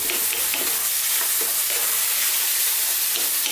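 Chili, coriander and turmeric powders sizzle loudly in a hot pan for an Indian meatball curry, a dense continuous hiss with faint scraping stirs underneath and no voices.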